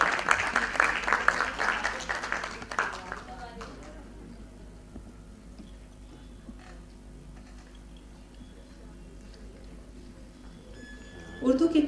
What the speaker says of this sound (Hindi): तालियां बजती रहनी चाहिए और इतनी जोर से बजनी चाहिए कि पीपी सर को ये तालियां सुनाई दें।